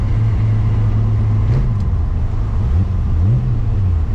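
A modified BMW E36 making about 600 wheel horsepower cruises at speed on a road, heard from inside as a steady engine drone. Its pitch dips and climbs with a few shifts, and there is constant road noise.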